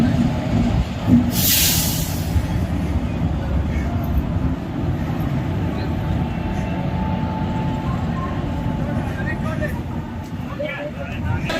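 The Gitanjali Express between Mumbai and Howrah rolls along, its steady low rumble and hiss heard from inside the train. A voice speaks over the noise and a brief rushing burst comes early on.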